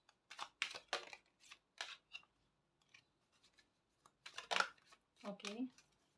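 Tarot cards are shuffled and drawn in a run of quick, crisp papery riffles and flicks, close and fairly quiet, arriving in clustered bursts separated by short pauses.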